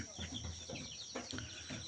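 Local village chickens cluck and murmur close by in a short burst, several overlapping soft calls with a faint background voice.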